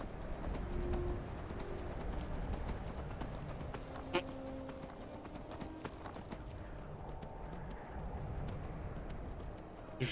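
Horse hooves clip-clop steadily in Skyrim as the mount travels across mountainous northern terrain, a continuous rhythmic patter heard close over game ambience with no talk.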